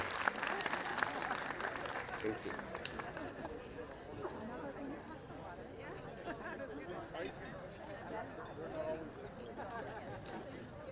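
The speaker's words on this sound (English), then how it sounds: "Do we want to give them another round of applause?" At a Night in Oaxaca 2022 community celebration, an audience gives a long round of crowd applause, fairly faint and distant, blended with steady chatter and murmuring voices throughout.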